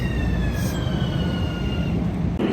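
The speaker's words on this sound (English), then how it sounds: "the train is here early, and because it's here early, it's gonna leave here early." A commuter train rumbles at a platform in Grand Central Terminal, a loud continuous low roar with faint metallic squeals and tones, no voices.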